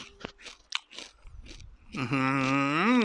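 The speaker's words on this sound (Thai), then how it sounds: "ให้ฟังเสียงกรอบ" Crunchy Yada Boon pork cracklings are bitten and chewed up close in a quick run of crisp, crackling crunches, then a sustained voice takes over.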